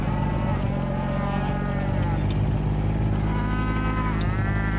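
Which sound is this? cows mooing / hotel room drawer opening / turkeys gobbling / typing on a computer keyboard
cows mooing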